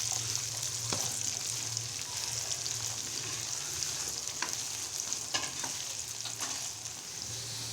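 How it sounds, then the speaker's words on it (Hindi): Okra and green chillies frying in a pan, a dense, steady sizzle close by with scattered stirring clicks and scrapes throughout, fairly loud and continuous, without any talking. "इसे हम अच्छे तरीके से फ्राई कर लेंगे"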